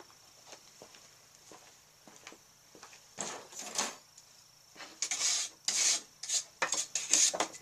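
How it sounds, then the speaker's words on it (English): Rust and dirt scraped off a rebar piece, heard as faint scattered rasps at first, then louder rhythmic rubbing strokes close by, with no talking. "So I'm going to start by scraping off the rust and any of the dirt that's left on this"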